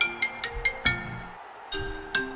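A mobile phone's incoming-call ringtone plays: a short melodic run of bright, beeping notes repeating at a steady pace, close and clear, with a brief gap before the tune starts again.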